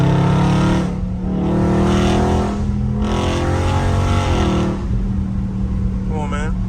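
A Dodge Scat Pack's engine in sport mode roars steadily under acceleration, loud and close from inside the car, with someone talking over it throughout.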